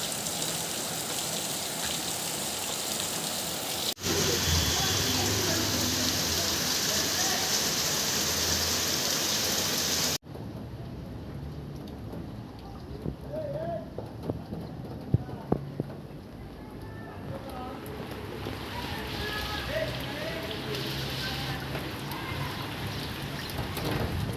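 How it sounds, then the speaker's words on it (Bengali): Rain falls steadily on a rooftop in a dense, even hiss, heavier and brighter at first, then softer with scattered drips and taps as the shower continues, no voices over it. "ছাদে সুন্দর বৃষ্টি"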